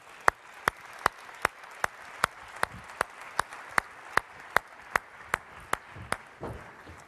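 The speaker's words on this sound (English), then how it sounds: "So a very big round of applause for Bill Liao" Applause for guest speaker Bill Liao at a One Young World event comes across as evenly spaced, crisp single claps in a slow, steady rhythm, about seventeen in a row over faint room noise.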